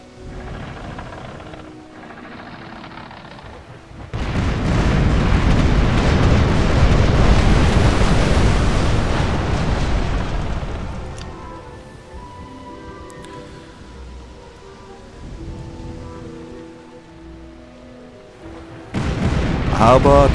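Ship cannons fire in a naval battle in the video game Tempest, a loud, heavy broadside roar that swells and rumbles for several seconds before fading, with a second blast erupting at the end.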